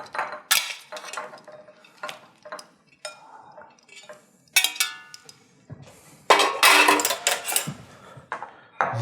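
Cooked shrimp tipped from a pot into a bowl, heard as scattered metallic clanks and scraping clatter of utensil on cookware, close and bright, arriving in short irregular bursts with quiet gaps and no talking.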